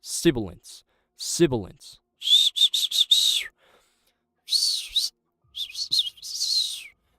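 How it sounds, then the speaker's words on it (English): A man whistles in short, high, clear bursts, several quick chirpy notes in a row and then a few separate phrases, each followed by silence. "I can whistle damn good"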